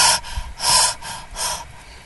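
A voice imitates a cat panting after a race, with three heavy rhythmic breaths, loud and close, each a rough airy gasp.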